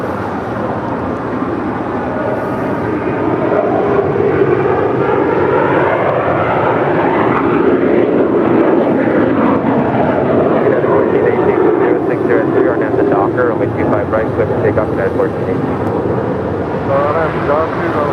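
A jet airliner roars steadily on final approach to runway 25 left at LAX, a broad continuous engine rumble with shifting whine, loud and close throughout while radio chatter runs beneath.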